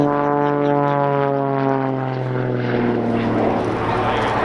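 Several Blades aerobatic team propeller planes pass in a flying display, a loud, steady droning engine note that bends slightly in pitch as they sweep by.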